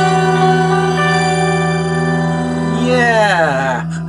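Guitar run through the Soundtoys Crystallizer plugin, a sustained ringing tone layered with octaves and delays, swelling into shimmering pitch-shifted sweeps near the end before cutting off.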